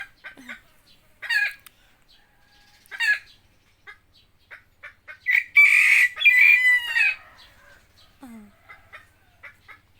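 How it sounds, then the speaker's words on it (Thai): A white bird gives a long, rooster-like crowing call midway, surrounded by scattered chirps and short clucking notes, fairly close and clear. "นั่งทำเสียงขันล้อเลียนไก่"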